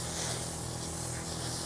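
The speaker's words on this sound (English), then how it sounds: "So first off, I'm gonna spray yellow." A steady, close airbrush hiss sprays yellow paint onto gumpaste flowers continuously, a smooth even rush of air without pauses.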